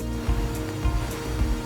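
Water rushes and churns steadily past the hull of a Tesoro T38 motor catamaran cruising at about 8 knots near planing, a continuous close wash with low rumbling swells and no voices.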